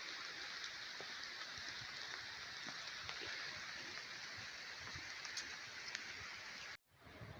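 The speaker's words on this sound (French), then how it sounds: "ça commence à bien pleuvoir là." Steady rain falling in a forest, a soft continuous hiss of drops with faint scattered patters, quiet and even throughout, cut off briefly near the end.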